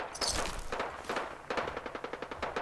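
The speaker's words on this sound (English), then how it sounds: "More gunfire from that direction." Fallout 4 gunfire rattles in rapid bursts, a quick automatic volley followed by a steady string of evenly spaced shots, sharp and moderately loud with no talking.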